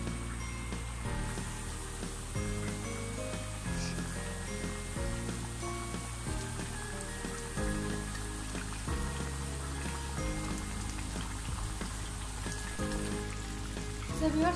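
Boal fish curry with potato and tomato cooks in a pan, giving a steady soft sizzle and bubble throughout, quiet and continuous, with background music over it.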